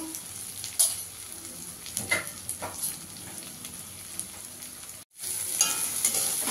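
Chicken sautéing with turmeric and Kashmiri chilli powder in a pan for a dak bungalow chicken curry: steady sizzle and frying hiss with scattered stirring scrapes, broken by a short drop to near silence before the sizzle resumes.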